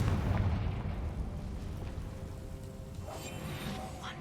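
A fiery Confringo spell explosion in the Hogwarts Legacy video game, a dense rumbling burst that booms at the start and fades into a sustained low roar with faint crackles.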